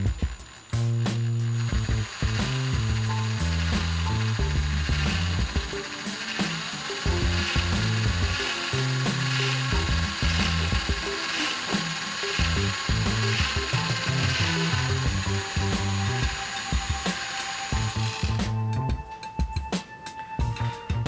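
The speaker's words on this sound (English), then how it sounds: "So now we're going to start drilling some holes." A drill whirs and grinds through the wood of a guitar headstock in repeated bursts, boring holes for tuners, its pitch rising and falling as it bites, with brief pauses between passes.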